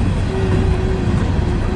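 A Norfolk Southern train rolls past close by in Fostoria, Ohio, a steady loud rumble of wheels and cars with a faint sustained tone running through it, no voices.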